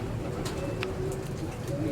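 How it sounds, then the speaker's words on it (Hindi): A female racing pigeon in Lahore coos softly in low, rolling notes with a few brief higher chirps, set against steady outdoor background noise and no clear talking. "ये कबूतर की मादी को छोड़ के दिखाते हैं आपको"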